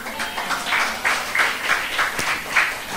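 A church congregation gives hesitant, scattered applause during a sermon, irregular clapping rising and falling in moderate bursts.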